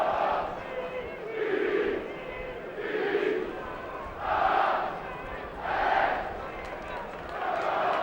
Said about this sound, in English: takes the applause of the stadium